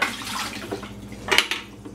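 Water is dumped out of a Keurig coffee maker's reservoir during a deep clean, a loose splashing pour with a few louder sloshes and drips near the end, close by with no talking.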